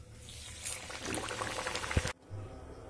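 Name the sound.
chicken patties frying in oil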